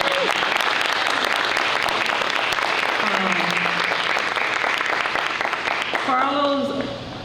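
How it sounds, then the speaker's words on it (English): An audience at a school family center opening bursts into sustained applause for the building custodian, thick and continuous clapping that fades near the end as a voice starts speaking. "I think he deserves a round of applause."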